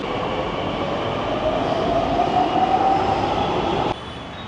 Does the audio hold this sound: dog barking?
no